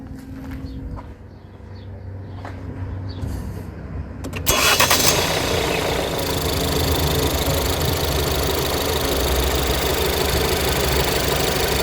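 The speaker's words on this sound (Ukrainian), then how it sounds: "Запустити двигун." A car engine cranks and catches during a battery test, then settles into a loud, steady running rumble that continues to the end.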